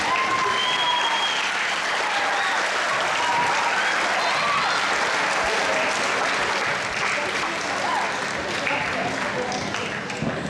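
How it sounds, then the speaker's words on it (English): Sustained audience applause at a school awards ceremony for peer mentors, a dense steady wash of clapping across the whole stretch with cheers and voices mixed in. "If we can please give the attendees a round of applause."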